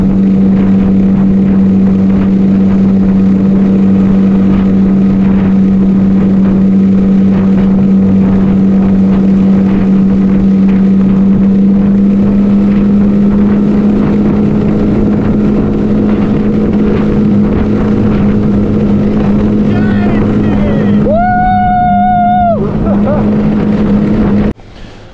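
A motorboat cruises along a shore, its engine giving a steady, loud drone with wind buffeting the microphone throughout, and a short tonal whine near the end.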